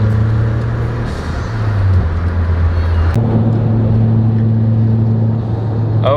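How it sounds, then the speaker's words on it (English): Steady engine hum and low road rumble from a Mitsubishi Lancer Ralliart on coilovers, driving along at a constant pace with a brief rise in engine tone partway through, fairly loud and close, with no talk. "So I'm gonna go ahead and drive over."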